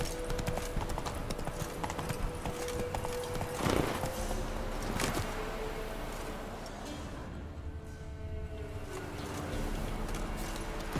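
Galloping horse hooves from The Witcher 3 make a quick, continuous clip-clop close by, with a brief louder thump partway through and light game ambience around it.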